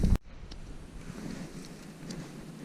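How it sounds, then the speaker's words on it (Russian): Strong wind gusts across open ice during a March thaw, a steady broad roar and buffeting against the microphone after a brief loud knock at the start, with no one speaking. "Ветер сильный"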